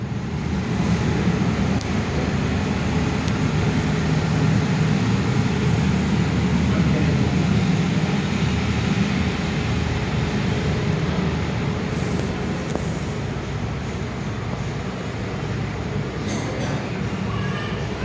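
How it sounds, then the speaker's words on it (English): Singapore Airlines Airbus A350 taxiing out for takeoff at Perth airport, heard from an indoor viewing area as a steady broadband engine rumble and whine that holds throughout at a moderate, distant level. "Singapore's A350 taxiing out for takeoff."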